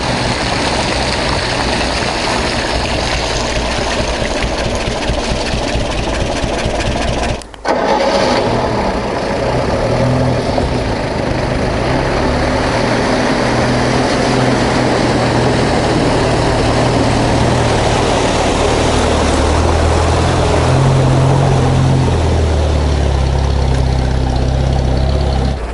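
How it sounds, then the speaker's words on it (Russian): A UAZ Bukhanka off-road van's loud engine drones steadily at close range, with rough rumbling and splashing noise as it drives through forest puddles, briefly dipping once before continuing. "Ну что, нормально УАЗик скачет по лужам."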